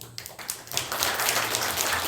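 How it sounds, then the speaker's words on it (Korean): Church congregation applauding to welcome newcomers, a dense wash of many hands clapping that swells and holds steady after a few scattered opening claps, with a low hum beneath. "새로 오신 분들도 계신데 우리 박수로 환영해 줍시다"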